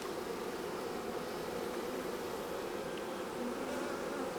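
Honeybees swarm and hum around a newly installed hive in a greenhouse, making a dense, even buzzing drone that runs without a break at moderate loudness.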